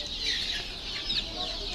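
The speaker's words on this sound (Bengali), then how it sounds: "ডিম পাড়ার জন্য নেবেন, তাদের জন্য এই মুরগিগুলো উপযুক্ত মুরগি।" Native deshi laying hens on a poultry farm cluck in a brief, close burst of overlapping calls.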